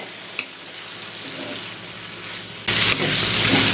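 Cabbage and capsicum sautéing in a pan for Sri Lankan style vegetable noodles, a steady soft sizzle that jumps noticeably louder and brighter near the end, with a brief clink early on.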